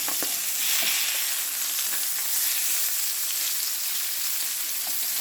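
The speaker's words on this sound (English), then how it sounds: "we're just going to cook this on the flesh side down for another 5 minutes" Salmon fillet with garlic butter and lemon sizzles and fries steadily in a pan, turned flesh side down after the skin has browned; a close, continuous crackle with a few sharper spits and no talking.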